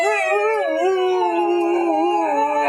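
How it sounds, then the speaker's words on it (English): Several husky dogs howl together in long, wavering, overlapping tones that rise and fall steadily, close and loud, with no talking over them. "that's the husky howl right there"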